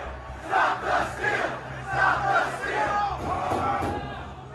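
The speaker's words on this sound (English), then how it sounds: "Crowds began pouring into the Rotunda, Crypt, Statuary Hall, and other locations." Rioters pouring into the Capitol building, a dense roaring crowd with overlapping shouts and battle cries swelling and falling continuously.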